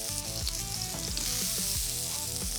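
Frizzle sizzles loudly on a hot griddle in a dense, continuous hiss, close up and steady throughout with no voices.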